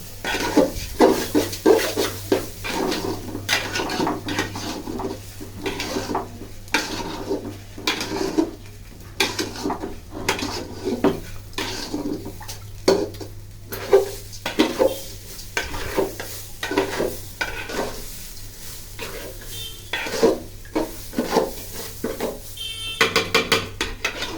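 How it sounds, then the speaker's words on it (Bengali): Biryani ingredients frying in a pan with a steady sizzle, stirred continuously so a spoon scrapes and clatters against the metal in quick, irregular strokes throughout. "তারপর এগুলো ভালো মতো ভেজে নিতে হবে"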